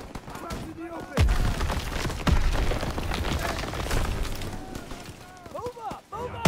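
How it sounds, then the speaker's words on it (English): Gunfire crackles in Call of Duty WWII on the Death Factory mission, dense bursts and booming shots rolling on steadily while soldiers shout over the battle. "Gunfire!"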